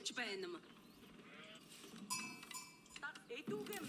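Several sheep bleat in short, wavering cries with a clank of bells in Age of Empires IV, while a voice talks briefly in between.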